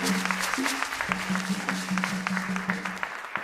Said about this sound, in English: a bigger round of applause for Mr.